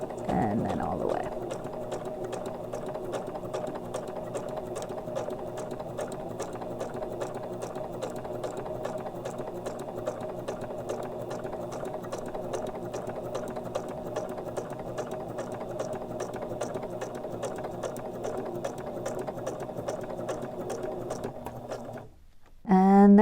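Sewing machine stitching tulle on a shaker card, a steady close mechanical whirring hum with rapid needle clatter running nearly continuously, briefly stopping near the end before a quick restart.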